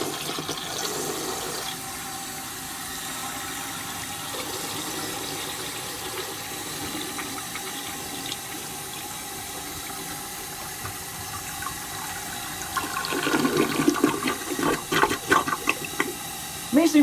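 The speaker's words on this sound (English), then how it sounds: "So, all right, let's give it a flush," A 1981 Briggs Conserver toilet with a Mansfield flush valve flushes with a steady rushing of water that builds into louder gurgling swirls near the end, heard close in a quiet room.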